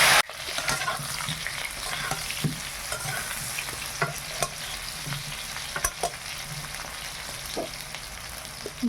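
Cauliflower and potatoes fry in hot oil with a continuous bright sizzle, while a utensil stirs and scrapes the pan in scattered clicks and taps throughout, close by and at moderate volume.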